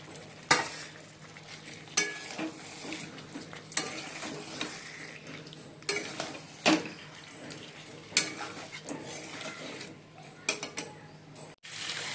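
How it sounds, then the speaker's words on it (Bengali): Chicken pieces fry in oil for a spiced Bengali chicken chaap, a low steady sizzle punctuated by sharp, regular clanks and scrapes of a spatula against the pan. "দেখো তেল ছেড়ে গেছে, এবার আমি চিকেনগুলো সব দিয়ে দেবো"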